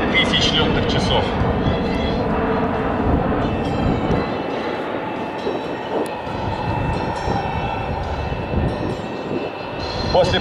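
A Sukhoi Superjet SSJ-100 airliner flies a display at the MAKS 2019 air show, its jet engines producing a broad, steady roar heard under a commentator's voice.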